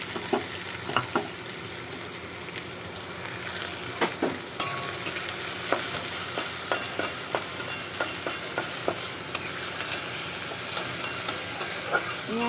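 Ginger, green chilli and chopped tomato stir-fry for vegetarian chowmein, a continuous loud sizzle broken by regular scraping and clacking strokes of a spatula against the pan, repeating roughly every half second without any voices.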